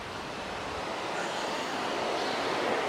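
Water pouring over a small old weir, a steady broadband rushing roar that grows slightly louder toward the end, heard alone without talk.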